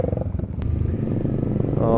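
Motorcycle engine running steadily up close at a mountain stop in Sagada, a low continuous rumble with a rattling clatter, while people talk over it.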